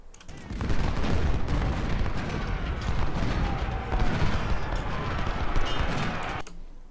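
Cannons fire in a battle in the Civil War strategy game Ultimate General: Civil War, a dense, continuous rumble of booms and gunfire layered over each other for several seconds.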